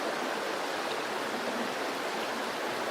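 River water rushes steadily past, a dense, unbroken wash of flowing noise heard up close and fairly loud, with no voices.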